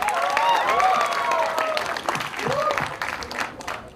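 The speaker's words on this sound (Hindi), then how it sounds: "कम ऑन गाइस, जोरदार ताली होनी चाहिए।" Loud applause from a crowd at a film teaser launch event, dense clapping throughout, with voices and cheering calls rising over it.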